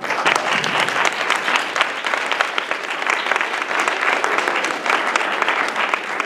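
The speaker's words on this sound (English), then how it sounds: "Please join me in giving Mr. Doar a round of applause." Sustained, full applause from an audience at a university speaking event, a thick continuous roar of clapping hands that stays loud and even throughout, with no talking over it.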